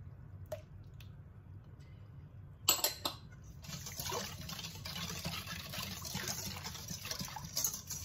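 Lye water is poured into a kutsinta batter for black kutsinta, with a few soft drips followed by a quiet, steady trickle and small wet squishes, close and faint.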